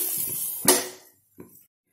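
A lid set back onto a grill pan with a single sharp metallic clank, followed by a brief fading ring and a softer second knock, close and without talk.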